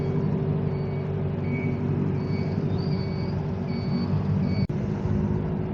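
Busy road traffic with a heavy truck's rumbling engine, faint intermittent reversing beeps and a brief air-brake hiss near the end, a steady loud drone throughout.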